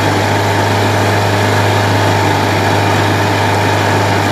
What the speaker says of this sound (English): bring it all the way down to shift, and it'll just sit there and idle